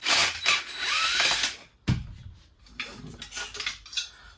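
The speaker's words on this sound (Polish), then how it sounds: "tylko pyk, wykręcam wkręt" A cordless drill backs a screw out of wood while a camper van seating bench is being built, a close, loud whir for about a second and a half, then a clack and lighter scraping and handling noises.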